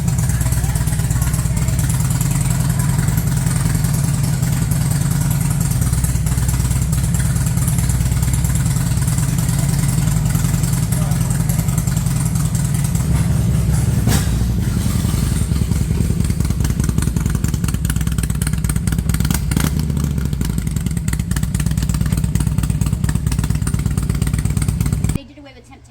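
Used Harley motorcycle engine started and left idling, a close, loud, steady rumble with clattering pulses that runs continuously before cutting off abruptly at the end.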